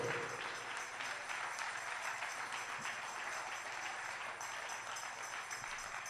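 Church congregation applauding during a Sunday morning service, a steady, even wash of clapping that carries on for several seconds at moderate, slightly distant level without pause.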